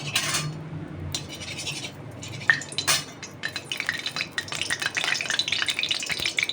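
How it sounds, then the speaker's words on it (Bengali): Oil and ghee heat in a hot kadai with a soft sizzle, while a metal spoon clinks and scrapes against the wok in quick, uneven bursts that grow busier toward the end. "কড়াই গরম, তেল দিয়েছি, সামান্য ঘি দিয়েছি তেলের মধ্যে, আর একটু ঘি দিলাম"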